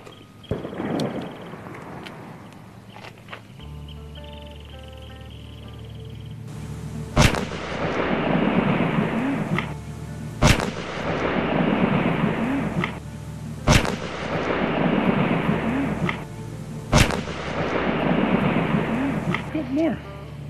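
Four sharp, loud reports from an AEA Zeus .72 caliber air rifle fired at steel and large lumber from 50 yards, evenly spaced a few seconds apart, with a voice talking between shots.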